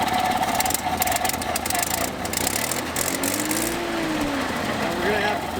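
A neglected Datsun 280ZX that sat for 15 years runs close by with a rough, steady engine note that idles and swells into revs, with people talking over it.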